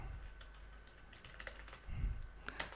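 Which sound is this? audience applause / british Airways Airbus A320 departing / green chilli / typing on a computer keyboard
typing on a computer keyboard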